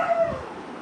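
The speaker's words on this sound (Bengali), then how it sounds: "জানি না কেন বাহিরে কুকুর ডাকতেছে অনেক বেশি" A dog howls and yips in a brief, whining burst, fairly close, with no talk over it.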